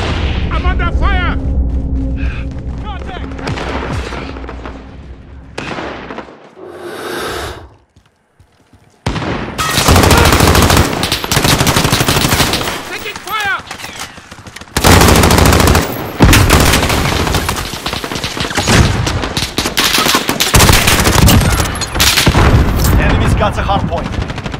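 Dense, loud automatic gunfire and explosive booms from a Call of Duty Hardpoint match, rattling in long continuous bursts with brief lulls, with in-game voice callouts over the shooting.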